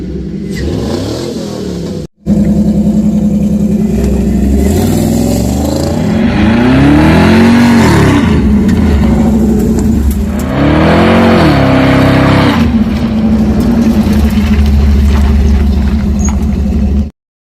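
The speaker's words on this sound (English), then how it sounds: "can you rev it up a little bit? Hear it run?" An old car engine at a junkyard revs loudly and close up several times, each blip swelling and falling back to a rough idle, after a brief cut in sound near the start.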